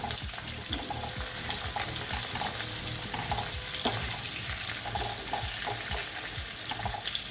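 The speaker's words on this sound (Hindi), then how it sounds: "और हमें इसको 2 बार फ्राई करना है, तो ज़्यादा देर फ्राई नहीं करेंगे" Baby corn deep-frying in hot oil, a steady dense sizzle and crackle with small bursting pops throughout, close and even in loudness, without any talking.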